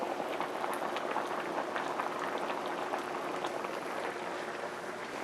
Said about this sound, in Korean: 이제 지금 끓고 있지요